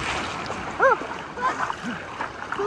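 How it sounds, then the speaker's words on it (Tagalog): Strong sea waves splash and wash near the listener in uneven bursts while people shout and exclaim over the water noise. "Ang lakas ng alon!"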